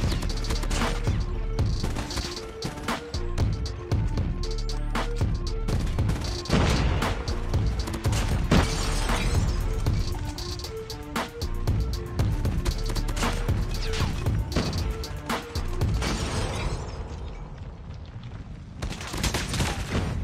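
Rapid assault rifle hip fire in Call of Duty Mobile, using a no-attachment loadout: dense, loud automatic bursts that crack and rattle almost without pause, with heavy impacts and a brief lull near the end.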